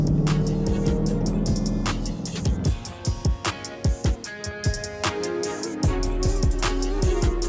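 Dodge Jailbreak Hellcat driving slowly in city traffic at about 3,500 RPM, a deep engine rumble broken by a run of sharp pops and crackles, close and fairly loud with no talk.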